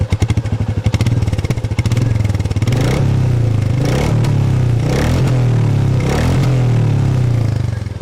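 A 2022 Yezdi Roadster motorcycle engine idles in neutral, loud and close, with a steady smooth low thrum and a few brief throttle blips or revs rising over it.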